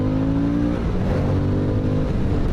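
A Harley-Davidson Sportster S 1250 motorcycle engine runs steadily and loud up close, pitch dipping slightly then climbing as it takes revs, a continuous throaty drone with no talk.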